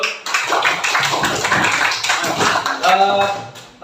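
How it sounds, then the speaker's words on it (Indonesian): Children in a 6th-grade classroom clap their hands together in a dense, lively burst, with voices mixing in over the patter. "tepuk tangan dulu"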